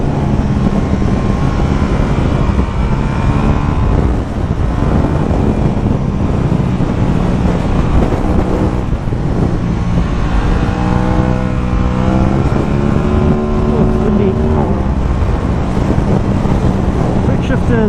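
An Aprilia RS660 motorcycle runs hard at high RPM with a continuous loud engine roar, pitch rising and falling as it revs, mixed with heavy wind buffeting throughout.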